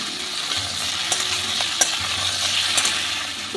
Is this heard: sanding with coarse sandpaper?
no